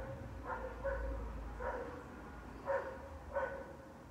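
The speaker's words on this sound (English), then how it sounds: "My friend's dog is outside. Every night when she comes out, she starts barking" A dog barks outside at night, four or five muffled, mid-distance barks spaced irregularly over a low background rumble.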